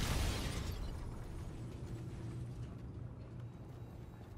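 A Trinity rocket detonates in Infinite Warfare multiplayer, a sharp burst followed by a long rumbling decay that fades slowly, fairly faint and with no talk over it.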